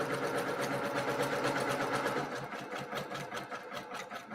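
A sewing machine stitches steadily through a quilt block for a mosaic squares block of a sampler quilt, a continuous close mechanical whirr that softens slightly partway through.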